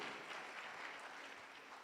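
Applause from an audience at a disability inclusion event, a steady, even wash of clapping filling the whole moment without voices on top.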